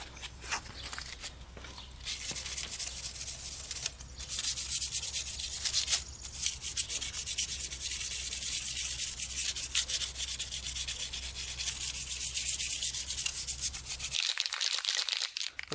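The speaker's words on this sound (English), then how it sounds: "Let's do a little sanding on it, just so the paint sticks a little bit better." Steady hand sanding of a Kawasaki dirt bike frame with 220-grit sandpaper, a continuous close scratchy rubbing with brief pauses that ends abruptly near the close.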